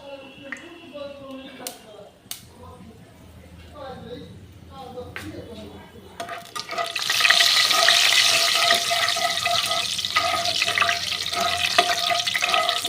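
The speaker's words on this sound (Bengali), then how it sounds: "দেখো কড়াইতে আমি তেল বসিয়েছি, তেলটা গরম হয়েছে। এবার আমি পাঁচফোড়ন দিয়ে দিলাম।" Panch phoron spices dropped into hot oil in a wok burst into a loud, steady sizzle that rises suddenly and holds, while someone talks over it.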